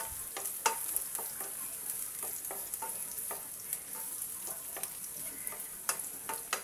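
Onions and chilies sizzling in a pan while being stirred, a continuous crackling fry with frequent small scraping clicks from the spatula, close and alone without talk.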